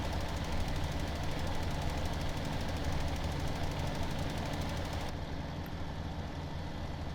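A tractor engine in Farm Simulator 17 drones loud and steady at a rough, knocking idle, running close up and unbroken throughout with no talking.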